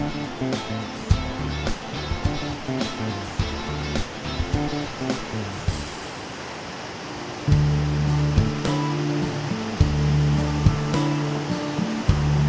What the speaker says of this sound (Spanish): Aquí, en la cascada del Molino de Arriba, en Peralejos de las Truchas, el Tajo sigue marcando la línea